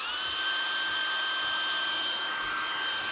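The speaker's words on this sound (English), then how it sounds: "once again, we go back to the hairdryer," A handheld hair dryer blows hot air onto a vinyl boat seat cover, producing a steady, loud, unbroken whoosh and whine that runs close by throughout with no voices.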